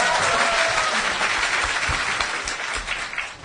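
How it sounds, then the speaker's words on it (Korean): An audience at a Q&A event applauds in a dense, sustained burst of clapping that thins slightly toward the end, fairly close and with no voices over it. "새로 박수 좀 치게 내비둬."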